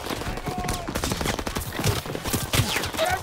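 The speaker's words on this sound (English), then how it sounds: "Taking fire!" Dense battlefield gunfire from Call of Duty WW2's Battle of the Bulge mission, a continuous fusillade of shots crackling throughout at steady loudness with scattered voices shouting over it.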